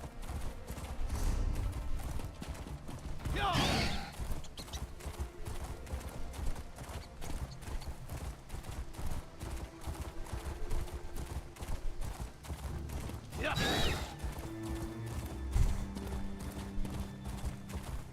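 A horse gallops in the video game Arcanist, giving steady, rapid hoof clip-clops at close range, with two louder bursts of noise partway through and no voices.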